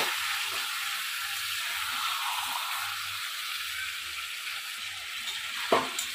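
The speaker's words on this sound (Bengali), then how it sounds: "এবার মাংসগুলো একটু আস্তে আস্তে আস্তে আস্তে আমরা নেড়ে নেবো যাতে মশলাটা সব জায়গায় ভালোভাবে মাখানো হয়ে যায়" Spiced chicken for a fresh coconut dry chicken dish is stirred in a pan, giving a steady loud hiss and sizzle with soft low scraping pulses and one sharp knock near the end.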